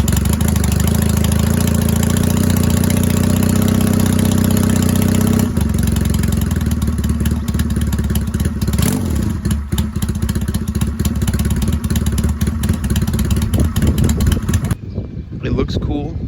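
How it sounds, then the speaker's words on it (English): A 1987 Honda Rebel 250 motorcycle fires up on half choke and settles into a steady, loud idle, a low throbbing engine note running throughout before cutting off at the end. "It's a 1987 Honda Rebel 250. Give you a little start up. 2 pumps of the throttle, half choke."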